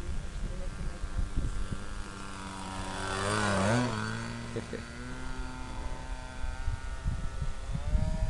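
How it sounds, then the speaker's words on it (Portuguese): A radio-controlled model airplane's small engine drones overhead, its pitch sweeping up and down as it passes close and then pulls away, with people talking and wind noise throughout. "Controle absoluto, né, do aeromodelo."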